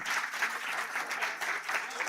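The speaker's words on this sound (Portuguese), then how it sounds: "Dá uma salva de palmas." A church congregation at a communion service breaks into applause, a continuous wash of many hands clapping at once, heard from a slight distance at moderate volume.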